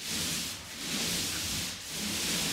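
A 12 inch paint roller rolls across a wall while painting a new build house, giving a steady soft rubbing hiss that swells and dips with each back-and-forth stroke, close by with no talk.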